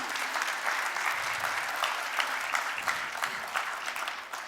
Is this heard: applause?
yes